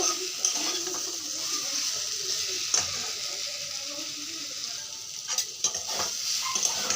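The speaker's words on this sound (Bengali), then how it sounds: "মশলাটাকে ভালো থেকে নাড়াচাড়া করে মিলিয়ে নেব" Potatoes and spices fry in a pan with a constant sizzle, while a utensil scrapes and clacks in scattered stirring strokes, moderately close.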